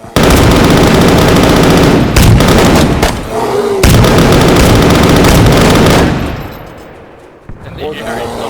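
Dense, loud video game gunfire in an online survival shooter, sustained automatic bursts that stop briefly, resume, then fade into quieter sounds near the end.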